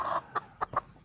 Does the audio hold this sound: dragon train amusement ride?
no